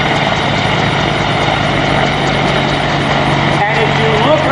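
Rotor thrum and turbine whine from AH-1 Cobra and AH-64 Apache attack helicopters at an air show form a loud, steady drone, with someone talking over it throughout.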